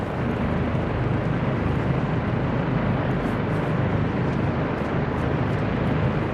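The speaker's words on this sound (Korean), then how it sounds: "방금 들었어? 헬기가 온다." Helicopter approaching in Call of Duty: Modern Warfare 2, heard as a loud, dense, continuous roar of rotor and engine noise that holds steady throughout with no voices.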